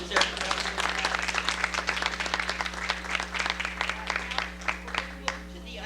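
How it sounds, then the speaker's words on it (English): Sustained applause from a town meeting audience for local election candidates, dense steady clapping from many hands throughout with a low constant hum beneath. "I think these folks deserve a round of applause"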